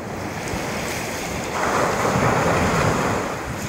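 Ocean waves wash onto the beach at Ocean City, Maryland, on a morning shoreline, a steady broadband surf roar with wind noise on the microphone, swelling louder midway as a wave breaks.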